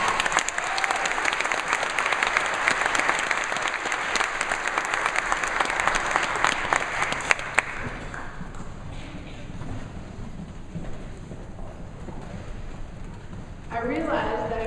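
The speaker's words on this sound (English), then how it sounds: "Please give him a big round of applause." At a Lake Forest College swimming awards ceremony, an audience claps loudly and densely for a coach of the year for about seven seconds, then the applause thins to a quieter scatter while a voice comes in near the end.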